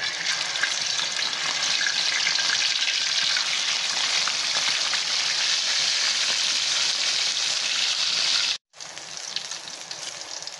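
Fish sizzles steadily in a pan of hot oil, a loud continuous frying hiss with no talk, broken by one brief silent gap near the end.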